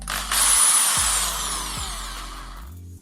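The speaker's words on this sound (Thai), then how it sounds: "สว่าน" A power drill fitted for polishing revs up with a loud, close motor whine, holds a strong buzzing spin, then gradually winds down near the end, with no voices.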